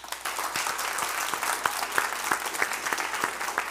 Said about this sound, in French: On fait l'applaudimètre. Allez, pour la première équipe.